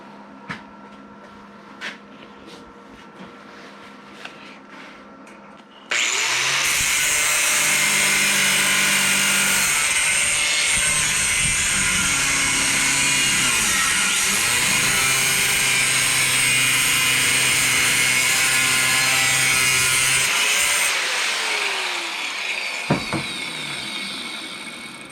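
A power tool trims a part for a custom board-track-style bicycle frame, starting abruptly after some light clanks and running as a loud, steady high whine that shifts pitch under load before cutting off, followed by small handling noises.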